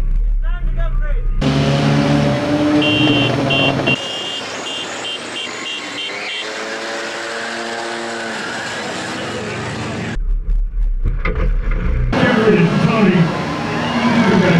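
Cars racing in a night skid plate race, engines droning and roaring loudly throughout, with a steady mechanical whine in the middle stretch and people talking and shouting over the noise.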